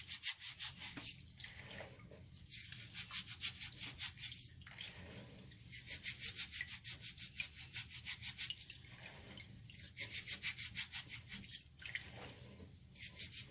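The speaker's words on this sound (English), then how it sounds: "Just wash it in between the palms of your hands, you're basically scrubbing those deposits out of the rice." Rice for making rice water is scrubbed between the palms in water, giving rhythmic wet rubbing and swishing strokes with faint drips, quiet and close, without any talking.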